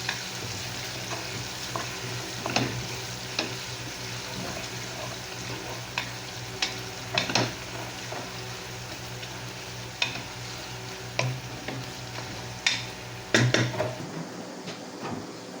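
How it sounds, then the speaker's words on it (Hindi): Onions fry in a pan with a steady low sizzle, browning while a spoon stirs and scrapes at intervals, the clinks and knocks close and clear over the constant hiss. "प्याज को हल्का सा ब्राउन करेंगे, थोड़ा सा कलर देंगे इसको।"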